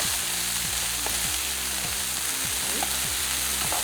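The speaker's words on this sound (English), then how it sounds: "I am going to add my beans in the pan now. And saute everything all together." Boiled beans sauté in a pan with a little fat, a soft steady sizzle under recurring low rhythmic stirring sweeps, fairly quiet, with no speech.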